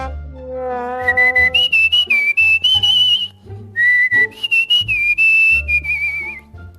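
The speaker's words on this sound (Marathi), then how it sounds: "कोण शिट्टी वाजायला लागला" A person whistles a bright, wavering melody in two long phrases, loud and close, over low background sound and brief vocal noises, with no speech during the whistling.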